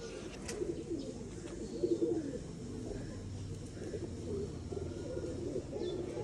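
Breeder pigeons of the mise type coo softly and steadily in a home loft, with low murmuring calls repeating in the background throughout.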